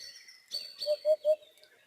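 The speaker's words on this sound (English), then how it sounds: "Hoopoe." Hoopoe bird call: three clear, evenly spaced hollow hoots in quick succession, fairly close and alone over faint background chirping.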